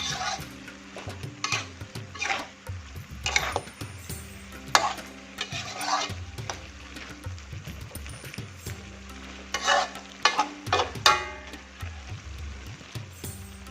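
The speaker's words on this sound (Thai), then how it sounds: "ผัดให้เข้ากันเลยค่ะ" Cucumber stir-fried in a pan for a sweet and sour dish gives a soft, steady sizzle. A utensil scrapes and clatters against the pan in irregular bursts throughout.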